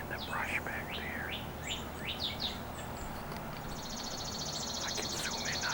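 Small birds, including cardinals, chirping from brush outdoors with quick rising and falling whistled notes and a short buzzy trill, faint and at a distance over a low background rumble, with a whispering voice faintly present.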